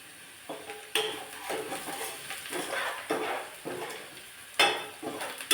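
Red chilli powder being stirred into eggplant bharta with onions in a pan, repeated rhythmic scraping strokes over a soft sizzle, close and fairly quiet, with no talk.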